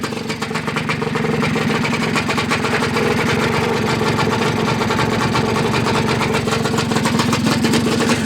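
A 1971 Yamaha RT1 360 enduro motorcycle engine running loud and near, a fast, even two-stroke rattle that holds steady throughout with no talking.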